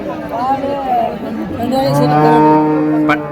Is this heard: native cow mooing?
yes